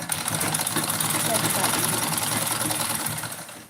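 A sewing machine stitches salwar fabric in one continuous, steady, close whirring run that stops at the end, with a voice talking over it.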